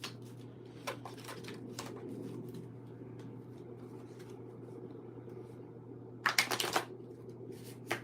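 Playing cards being shuffled, scattered soft riffles and flicks, then a louder rapid riffle near the end, quiet and close against low hum.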